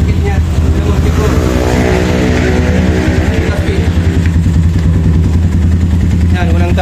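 A KRY 200cc motorcycle engine runs on the road with a steady, close, rumbling putter that holds throughout. Its pitch rises and falls a little at times.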